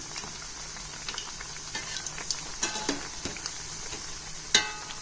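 Masala vada sizzles steadily in hot oil while a utensil turns the fritters over, adding light scraping clicks and a sharper knock near the end. No one speaks.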